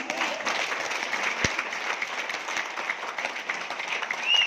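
An audience claps together at a live talk, a dense, steady patter of many hands that holds for several seconds and swells slightly at the end.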